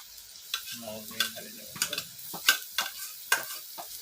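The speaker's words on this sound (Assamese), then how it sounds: "নহৰুটো দিয়াৰ পাছত আকৌ আপোনালোকে অকণমান সময় আকৌ ধুনীয়াকৈ ভাজি ল'ব।" Onion and garlic fry in a pan for a dry fish chutney, with soft sizzling and repeated sharp scraping strokes of a spoon stirring the mixture, steady and close, no talking.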